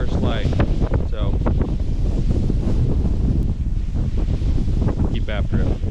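A fierce wind storm roars over an open marsh during a mallard duck hunt, a loud, unbroken rush of gusting air buffeting the microphone, with a voice briefly heard beneath it.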